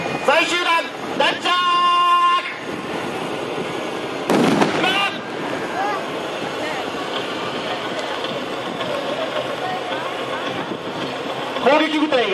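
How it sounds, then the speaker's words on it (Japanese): Mortar fire during a Japan Ground Self-Defense Force 15th Brigade training demonstration at Naha garrison: one loud, deep blast rings out midway over open-air crowd noise, with faint announcer talk before and after. "敵の陣地に対し迫撃砲による射撃を行い敵を制圧します"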